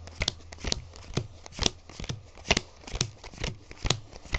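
Playing cards dealt one at a time into two piles, a steady run of crisp, close snaps and flicks with no voices.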